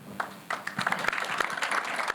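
An audience at a school event with secondary students applauds, a brief, moderately faint patter of clapping hands that swells after a short pause.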